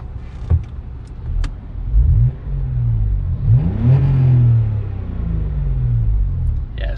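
A car engine is revved from inside a quiet cabin, a low rumble that swells in a couple of rising and falling surges before settling back to a steady idle, with a few brief clicks near the start.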